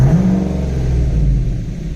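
A V8-swapped Chevrolet Colorado engine revving in park, a close low rumble with a brief rising rev at the start settling into a steady idle-like drone, no talk.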